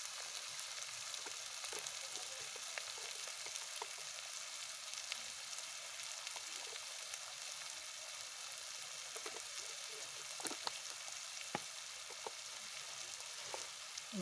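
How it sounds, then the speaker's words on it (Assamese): Garlic and ginger fry in a pan with a steady, close sizzle that runs throughout, broken by scattered small pops and crackles; no one talks. "ৰচুন আদা ভাজি দিছোঁ গোটাই গোটাই"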